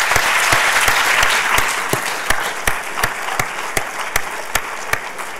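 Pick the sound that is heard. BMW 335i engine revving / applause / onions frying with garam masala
applause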